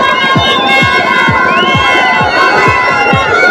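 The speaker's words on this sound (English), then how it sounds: "It's the crowd that goes crazy." A loud, dense crowd roars and cheers after a catch at a local cricket league grand final, with excited shouting voices layered into a sustained wall of noise.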